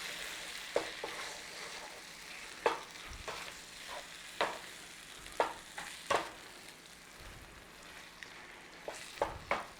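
Tomato paste being stirred into a chicken dhansak curry frying in a pan at home, a low sizzle punctuated by repeated sharp spoon scrapes and knocks against the pan, with no voices.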